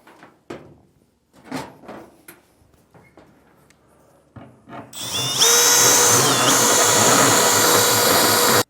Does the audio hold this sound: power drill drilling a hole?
yes